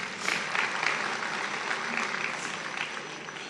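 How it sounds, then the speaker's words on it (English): Audience applause at the AFCON 2025 final draw ceremony, a steady wash of many hands clapping together in a large hall, sustained and even throughout with no distinct talk on top. "Can we clap hands for him?"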